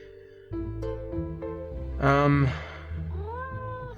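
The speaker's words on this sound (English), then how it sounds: "As soon as I heard the cat again, I couldn't think." Repeated cat meows from the Nancy Drew adventure game Mystery of the Seven Keys, a series of clear, fairly loud calls spread across a few seconds, with one longer wavering meow in the middle and a rising call near the end.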